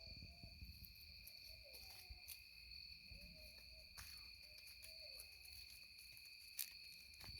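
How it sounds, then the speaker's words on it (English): An owl hoots softly several times in the distance, low repeated calls over a steady background of chirping crickets and faint night insects. "Hear my owl?"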